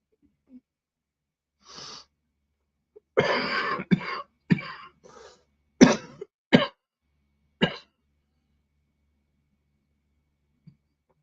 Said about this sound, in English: My cough is getting worse tonight.